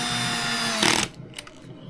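Milwaukee screw gun driving a screw during work on a Traxxas Jato 4x4 RC car, a steady close whir that ends with a short grinding burst, followed by a few faint clicks.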